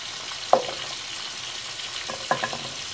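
Chicken wings fry in a pan with a soft, continuous sizzle, broken by two brief clacks of a utensil against the pan.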